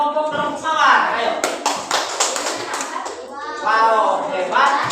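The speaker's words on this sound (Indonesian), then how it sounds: "Mari kita berikan tepuk tangan hebat kepada kelompok Mawar." A school class gives a round of applause to a student group during a lesson, a short burst of hand clapping in the middle, with children's and adult voices talking before and after it.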